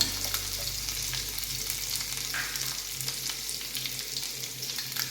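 Nuts sizzle and fry steadily in hot oil in a pan for semiya upma, a constant close crackle with faint stirring scrapes throughout, no voices.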